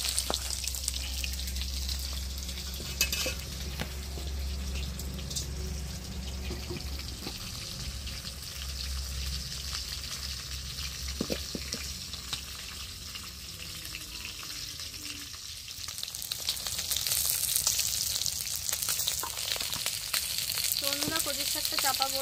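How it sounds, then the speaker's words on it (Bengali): Pond-caught snakehead fish frying in oil in a wok in a Sundarbans village kitchen, giving a continuous loud sizzling hiss with occasional clatter and stirring, swelling louder near the end. "এদিকে মাছ ভেজে তৈরি"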